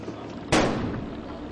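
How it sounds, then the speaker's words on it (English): A bomb squad robot destroys a fake bomb device with one sudden, loud blast that decays into a rumbling tail, heard alone against steady background noise. "Now the device is isolated and destroyed with the help of the squad's robot."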